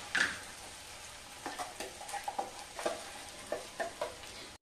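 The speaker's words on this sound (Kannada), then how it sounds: "ಮಸಾಲೆನ ಹಸಿ ರುಬ್ಬಿದ್ದಲ್ಲ ಎಲ್ಲ ಇದಕ್ಕೆ ಹಾಕಿ ಹುರ್ಕೊಬೇಕು." Ground wet masala being roasted in a pan for chayote gojju, soft sizzling under a series of quick scraping stirs that come in irregular bursts, close and fairly quiet.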